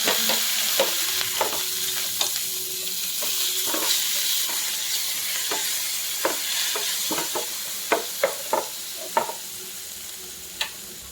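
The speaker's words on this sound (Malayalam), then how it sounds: "നമുക്ക് കുറച്ച് എള്ളു കൂടി ഇടാം ഇതിലിട്ട് വറുക്കാം" Grated coconut and sesame seeds roasting in a pan for unniyappam, a steady close sizzle and crackle with repeated sharp scraping clicks of a spoon stirring, no talking.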